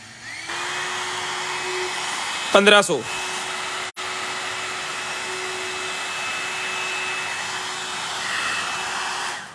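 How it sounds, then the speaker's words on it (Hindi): A hair dryer runs at a steady, loud whir for the whole stretch, with a brief clattering handling noise and a momentary cutout partway through; someone speaks over it. "उसके बाद आ गया जी हमारे पास ड्रायर"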